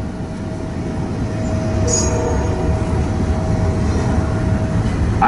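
A Norfolk Southern westbound double-stack freight train rolls past on Main 1 of the Harrisburg line with a loud, steady roar of wheels and cars, close by. A brief high wheel squeal cuts through early on.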